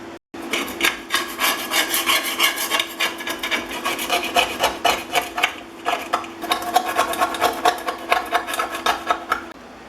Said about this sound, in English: use those 3 tools right there to scrape and pick out as much as the loose Japanning as I can